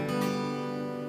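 A basic open chord strummed on a guitar, one bright strum ringing and sustaining evenly, close and clear with no talking.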